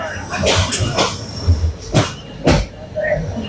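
A passenger train at Biman Bandar (airport) railway station in Dhaka, on a journey from Dhaka to Cox's Bazar, rumbling with rhythmic clattering bursts close by, while people talk over it.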